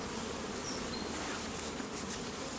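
Honey bees hum and buzz in a steady, dense drone from an opened hive, close and continuous throughout, with no voices.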